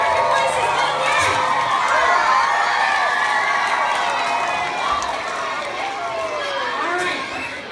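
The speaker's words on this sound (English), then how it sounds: "Cheer with your voices again." A crowd of elementary school children at a school assembly cheers and shouts with their voices. A loud, steady roar of young voices holds for the whole span and eases slightly toward the end.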